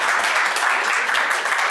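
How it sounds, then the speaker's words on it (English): Steady round of applause from an audience at a WHO collaborating centre designation ceremony, dense continuous clapping with no voices on top. "And I always get a round of applause for it too."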